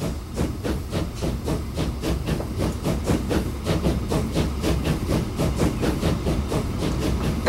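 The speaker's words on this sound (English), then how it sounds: "watch our brand new locomotives leave the station" Steam locomotives pulling out of a station in the train game Transport Fever, with rhythmic chuffing bursts of steam over a steady rumbling clatter that runs evenly throughout, loud and close.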